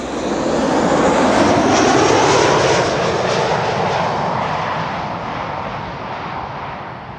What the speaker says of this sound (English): We do have more A321neos from Transavia also following.